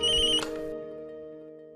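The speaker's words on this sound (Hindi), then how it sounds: "आंचल प्लीज प्लीज फोन तुम उठाना," A telephone rings in a Hindi TV drama scene with a short, bright electronic ring burst, then a lingering tone that fades away.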